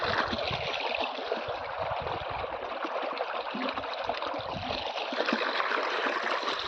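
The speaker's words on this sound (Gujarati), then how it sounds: "પાણી જાય છે કપાસમાં, જોવો તમે." Irrigation water flows steadily into a Bt cotton field on a farm, a continuous low rushing and trickling murmur that holds at an even level throughout with no speech.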